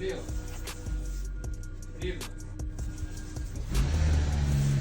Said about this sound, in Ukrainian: Ось запустився ДВС у нас